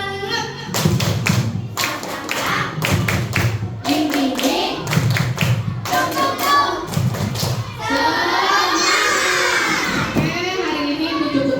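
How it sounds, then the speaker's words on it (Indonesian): Schoolchildren in a coding class perform a rhythmic tepuk semangat cheer, bursts of synchronized claps and thumps in a patterned beat, with children shouting the chant together between the clapping, ending in a longer excited group shout. "Kalau mau, kasih tepuk semangat."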